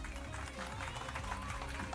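Applause from a local community gathering audience, a dense, steady patter of clapping filling the space with a few voices mixed in.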